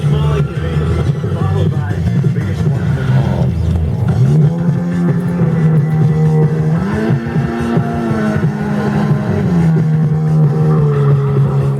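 Music plays back from a cassette tape on a Sanyo RD W41 deck, a steady dense tonal mix with a sustained low melodic line and muffled, dull treble, continuous and fairly loud throughout.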